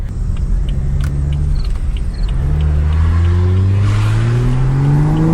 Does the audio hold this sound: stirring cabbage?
no